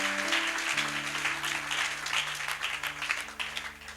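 A church congregation applauds in praise during a French-language sermon, a steady wash of many hands clapping over sustained organ or keyboard chords, moderately loud and continuous throughout.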